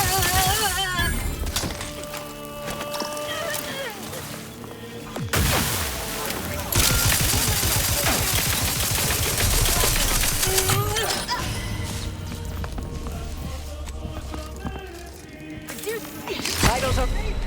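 Sci-fi gunfire and blasts from The Outer Worlds 2, dense bursts and impacts layered over game music and sound effects, with a voice speaking at points.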